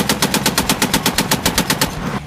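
Full-auto machine gun fire in a video game: a loud, rapid, evenly spaced burst of about sixteen shots over two seconds that cuts off abruptly.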